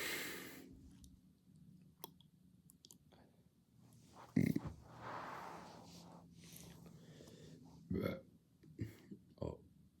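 A person burps once, loud and close, amid a casual room with someone talking nearby; a few smaller throaty noises and mouth sounds follow.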